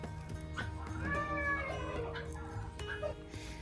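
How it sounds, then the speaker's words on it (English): Several cats meow and wail in overlapping, wavering cries, close and fairly loud over a steady indoor background hum. "all that love bugging brought in all these kitty cats"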